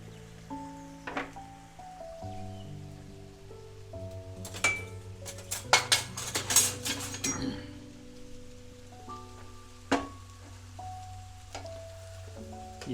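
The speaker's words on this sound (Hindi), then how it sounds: "ये हार्ड आयोडाइज कढ़ाई है तो इसमें मैं स्टील का स्पून यूज़ कर सकता हूँ कि प्याज नीचे ना लगे।" A steel spoon stirs onions in a hard-anodized kadai while Indian chicken curry is cooked: soft scraping, then a brief cluster of metallic clinks midway, over quiet background music.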